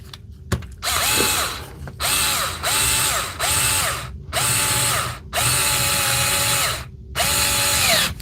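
A DeWalt power tool runs in repeated bursts of whirring, ratcheting mechanical noise separated by brief pauses, close and loud, with no talking.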